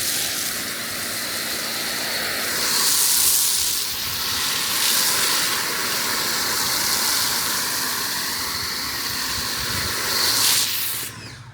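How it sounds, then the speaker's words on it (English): A Ryobi 1.8 GPM pressure washer sprays Chem-X foam over a dirty GMC truck's body and wheels, a steady loud hiss that continues throughout. "we're foaming down the whole body and the wheels and tires again"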